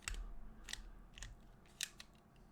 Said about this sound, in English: So now we can grab our crimps.